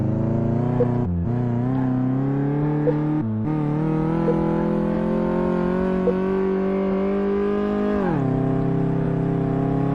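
A car engine hums steadily while being driven in Car Mechanic Simulator 2018, loud and close. Brief dips in the drone suggest gear changes, and near the end the pitch drops as it slows. No voices are heard.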